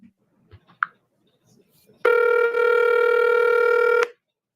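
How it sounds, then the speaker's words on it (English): A recorded phone call carries a few faint clicks and a brief beep, then a loud, steady electronic ringing tone with a short dip that lasts about two seconds before cutting off. "Why's the phone still ringing, you shady McShaster?"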